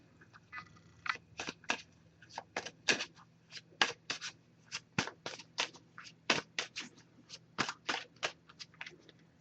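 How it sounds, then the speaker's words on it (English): A Messages of Love oracle card deck is shuffled by hand up close, giving a rapid run of crisp, papery riffles and snaps in quick uneven bursts over a quiet background, with no voices. "I'm just going to give this a few shuffles."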